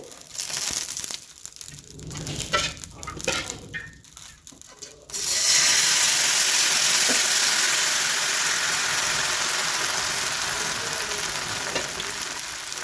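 Rice flour dosa batter sizzles loudly in oil on a hot pan, a steady dense crackling hiss that surges in after a few seconds of softer stirring and scraping sounds.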